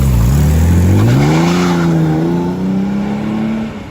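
An Aston Martin DB5 engine revs loud and close, its pitch climbing and sweeping, then holding steady before easing off near the end, with no voices.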